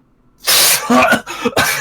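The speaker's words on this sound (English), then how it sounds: "coughing up water out of his lungs" A video game character coughing up water: a single harsh, wet cough followed by a couple of shorter sputtering coughs, loud and close.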